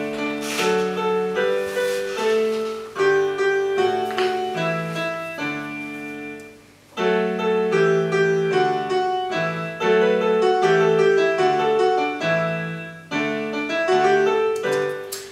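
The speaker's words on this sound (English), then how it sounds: "if I open a bad recording I've made of Twinkle Twinkle Little Star, it sounds like this." A rough, unevenly played recording of Twinkle Twinkle Little Star on a keyboard instrument, a simple melody of sustained notes with a noticeable gap midway before it resumes, clear and without voices.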